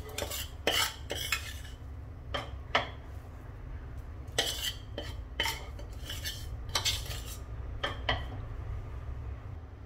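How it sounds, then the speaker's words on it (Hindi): A metal spoon scrapes and clinks against a hot pan while flour and ground dry fruits are stirred for Sindhi gond ladoo, sharp intermittent taps and scrapes over a low steady hum, close and fairly quiet. "तो ये आटा भी हम इसमें मिक्स कर देते हैं"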